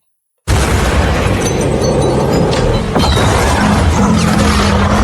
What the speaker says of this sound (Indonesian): mobil wanita itu terbakar dan meledak